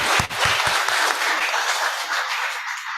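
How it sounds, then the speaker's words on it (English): Audience at a university law faculty seminar applauding for Dr. Ismail, a dense, steady burst of clapping that begins with a few sharp claps and holds throughout. "Now, audiences, please give applause to Dr."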